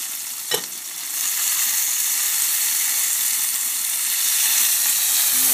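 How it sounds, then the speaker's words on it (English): Sliced onions and mushrooms hit a hot skillet with a brief clatter, then settle into a steady, loud, broadband sizzle that holds evenly and close throughout, with no voices. "What I'm going to put in now are some onions and mushrooms that I've sliced up."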